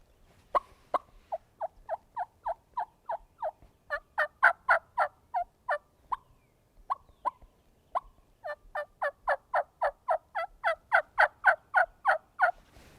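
A turkey call mimics an antsy hen turkey on the roost: many short, evenly spaced yelps and clucks in rhythmic runs with brief pauses between them, close and clear, with no talking.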